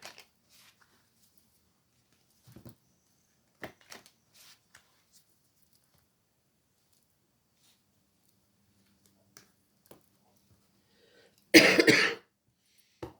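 A single loud, close cough bursts out near the end of an otherwise quiet stretch broken only by faint taps and rustles.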